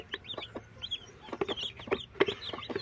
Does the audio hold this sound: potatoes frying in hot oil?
no